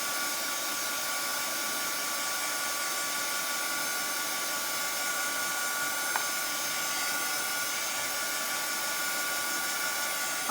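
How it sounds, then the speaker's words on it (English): A heat tool blows hot air over a retro Christmas card, giving a steady, unbroken whirring hiss with a faint high whine that holds constant throughout, alone and without speech. "let's get out the heating tool"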